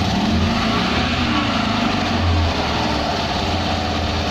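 A small Invacar engine running on a weak dyno start, raised from idle to higher revs; a steady, loud low drone that fills the whole stretch, with a brief swell near the middle and no speech.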